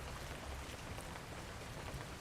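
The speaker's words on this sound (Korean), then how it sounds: "장대처럼 쏟아지는 비." Heavy pouring rain falling in thick sheets, a dense, steady roar of drops drumming on surfaces, loud and close with no pauses or other sounds.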